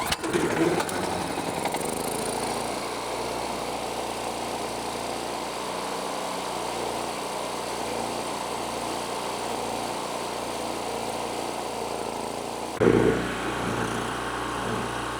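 An old generator engine runs steadily after starting, a constant close drone with a fast buzzing idle that holds for the whole stretch, apart from a brief bump near the end, with no talking.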